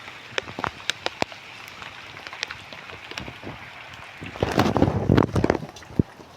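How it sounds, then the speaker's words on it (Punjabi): Scattered raindrops tap sharply on a nearby surface, growing into a denser patter toward the end; no voices. "ਮੀਂਹ ਤਾਂ ਥੋੜਾ ਹੀ ਹੈ"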